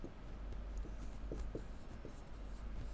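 A marker or chalk writes on a board during a database lecture, with short faint scratchy strokes over a steady low room hum, and no voice.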